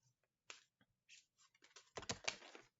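Quiet, close tapping and light shuffling of cards, a few scattered taps followed by a quick flurry of riffling clicks.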